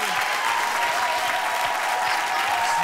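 A studio audience applauds during a French television entertainment show, giving a dense, steady wash of clapping that holds at an even level throughout.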